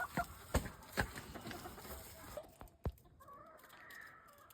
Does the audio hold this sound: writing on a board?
no